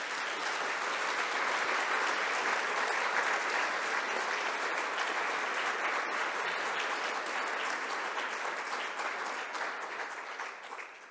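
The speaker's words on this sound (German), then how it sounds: "Wenn Sie mögen, für die drei vielleicht einen kurzen Applaus." An audience at a panel discussion on the fall of the Berlin Wall gives sustained, even applause for about eleven seconds, dense and steady before thinning slightly at the end.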